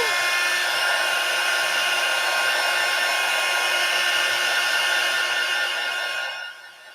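A hair dryer blows steadily on fresh paint, a loud close whirring whine held for several seconds before it winds down at the end, with no talking over it.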